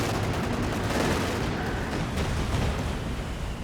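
Continuous rattling gunfire with ricochets and distant booms from a Company of Heroes 2 battle, a dense, fairly quiet wash of shots with no talk over it.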